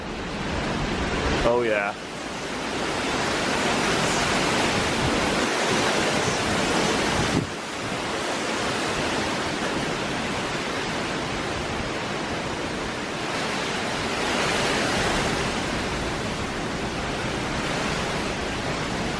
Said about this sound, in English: So I think we're about to get a good gust right here. You can kind of hear it building up.